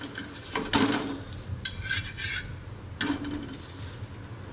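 Dhapata flatbread roasting on a hot pan, with soft scraping, rubbing and faint sizzling as the bread is turned and pressed, a few louder rasping strokes over steady low background noise, no talking.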